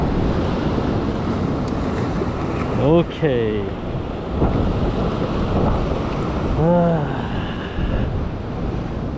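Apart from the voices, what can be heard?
large ocean waves breaking on rocks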